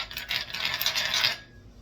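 The ridged bottoms of salt and pepper shakers are rubbed together to loosen seasoning, making a close, bright scraping rasp that lasts about a second and a half and then stops abruptly.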